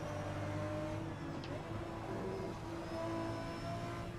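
LMP3 race cars in the sim racing game AMS2 drone along at a steady engine tone, a continuous mid-distance hum with no speech.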